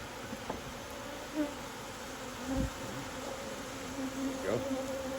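Honeybees buzzing around an opened hive during a cutout, a steady close drone of many insects with individual bees passing by, and no talk over it.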